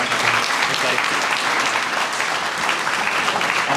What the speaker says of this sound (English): Just one more round of applause for Mike